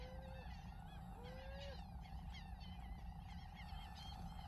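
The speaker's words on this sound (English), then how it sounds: "4 grackles and 5 seagulls keeping me company today" Grackles and seagulls calling outdoors by the ocean, faint rising whistles and many quick chattering squeaky calls that overlap in a busy stream over steady low rumbling background noise.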